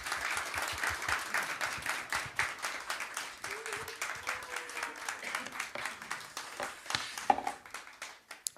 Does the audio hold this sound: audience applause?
yes